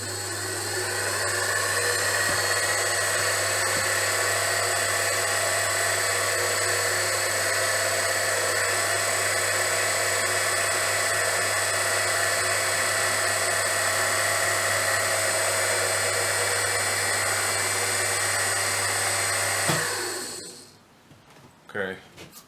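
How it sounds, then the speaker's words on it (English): A drill runs without pause for about twenty seconds, boring a hole in a turntable part. It is a loud, constant high whine over a steady hum, then it winds down and stops. "So I'm going to drill."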